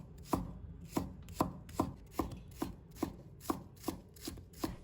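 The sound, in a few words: knife chopping scallion whites into small pieces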